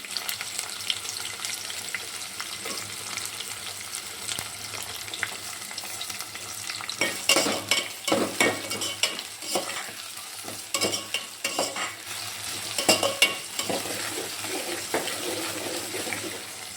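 Onions and curry leaves dropped into oil with reddened garlic and stirred in a pan for garlic kuzhambu, a soft steady sizzle that turns into a run of loud, uneven scraping and stirring bursts.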